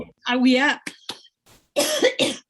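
A voice speaks briefly, then a few short, harsh coughs burst out close by, followed by more speech.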